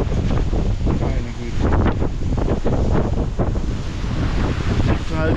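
Strong storm wind howls and buffets the microphone at the sea, with big waves surging underneath and a voice briefly talking over the roar.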